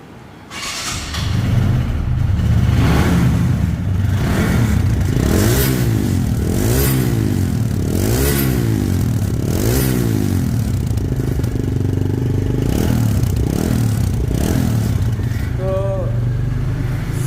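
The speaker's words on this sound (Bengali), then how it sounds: "এখন গাড়িটি সাউন্ড শুনবো সাউন্ড কোয়ালিটি শুনলে বুঝতে পারবেন যে ইঞ্জিনের কন্ডিশন কেমন আছে" A 2021 TVS Stryker 125 motorcycle engine starting up and being revved repeatedly, loud rising and falling vroom bursts over a steady idle, close to the bike, with a brief voice near the end.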